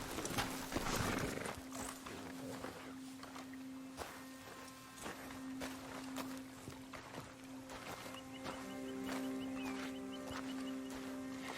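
Horse in the Red Dead Redemption 2 game, hooves clip-clopping at an easy pace near a shoreline with a faint snort or whinny, quiet and steady over a soft game ambience with a sustained musical tone.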